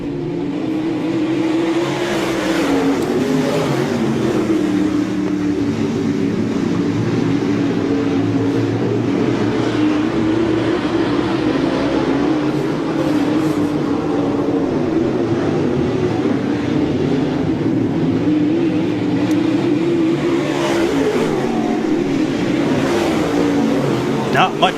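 Modified-division race cars in a heat race on a track, a loud, steady engine drone that holds throughout, with an announcer talking over it.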